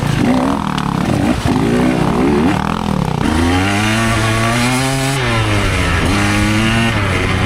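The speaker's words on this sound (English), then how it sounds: "for 150 two-stroke, it's surprising how much I could lug this thing" A 150cc two-stroke dirt bike engine lugs at low revs, its loud, buzzy drone rising and falling in pitch as it pulls under load, close up and continuous.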